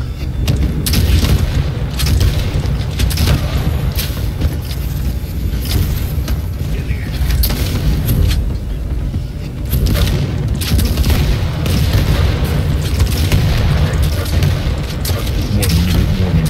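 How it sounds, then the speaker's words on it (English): Shotgun blasts fired in a Quake Champions match, heavy booming shots recurring through dense game noise, with players talking over the action. "Going in with the shotgun."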